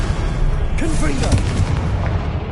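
Blasting-curse explosions in the Hogwarts Legacy video game, a loud continuous barrage of booms and bursts layered with other combat effects, with a voice shouting spell names over it.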